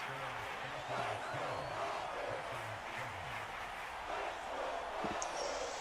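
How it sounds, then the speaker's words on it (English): A stadium crowd in an American football video game, Packers at Falcons in Atlanta, chants in a rhythmic, repeated pattern under a wash of distant crowd roar, fairly faint, with brief voices mixed in. "You can hear the crowd chanting."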